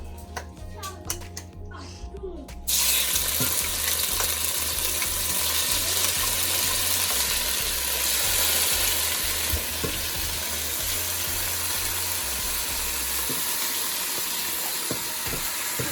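Oxtail hits a little hot oil in a pot, Jamaican style, and a steady, close sizzle of searing meat takes over, hissing continuously after a few seconds of voices at the start.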